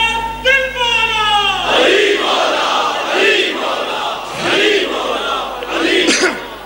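A large crowd at a religious majlis gathering chants slogans in loud, rising collective shouts that swell and fall in several waves, following a sustained tonal voice at the start.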